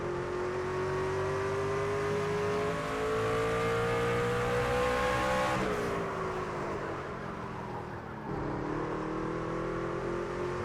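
A NASCAR Craftsman Truck in a racing video game laps Martinsville, its engine holding a loud steady whine that dips as it lifts off and then pulls back up, with no talk over it.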